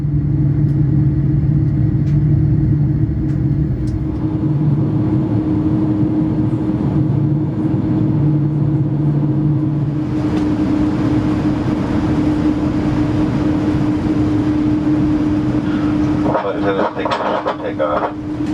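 An Air Canada Boeing 787-9 Dreamliner taxiing to the de-icing center before takeoff from Toronto, heard from inside the cabin as a steady engine rumble and hum, with a voice speaking over it.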